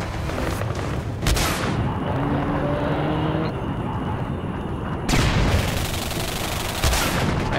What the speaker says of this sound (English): those guys are probably shooting the creatures that'll come after me